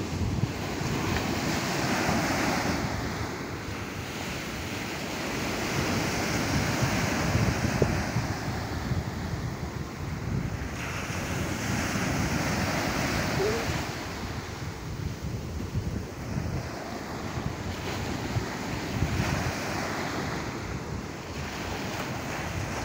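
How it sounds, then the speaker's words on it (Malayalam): Strong wind and crashing waves at Paravanna Beach form a loud, continuous roar with wind buffeting the microphone throughout. No voices are heard. "നല്ല കാറ്റുണ്ട്."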